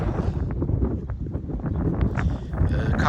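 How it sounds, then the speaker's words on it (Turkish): Steady wind buffets the microphone in a low, rumbling roar, with rustling gusts that swell louder toward the end. "Havada belli bir rüzgar var şu an"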